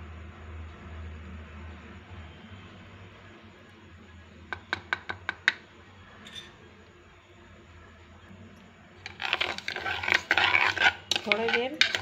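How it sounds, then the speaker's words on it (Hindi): A spoon clinks rapidly against a bowl in a short burst, then scrapes and swirls more loudly as sugar is stirred into refined oil, the metal-on-bowl scraping close and busy toward the end. "थोड़ी देर चलाएंगे हम ताकि शुगर हमारी थोड़ी घुल जाए।"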